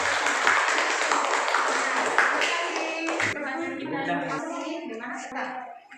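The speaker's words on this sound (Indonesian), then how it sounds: "Tepuk tangan untuk kelompok 1." A classroom audience claps for a student group after its presentation, a dense patter of hands for about three seconds that fades into people talking.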